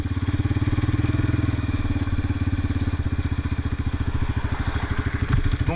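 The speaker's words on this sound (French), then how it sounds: "si vous embrayez et vous accélérez en même temps, ça va faire ça" A quad bike engine revved with the clutch pulled in while standing still, a close, steady throbbing putter with rapid regular pulses and a slight rise in pitch near the end, with no talk.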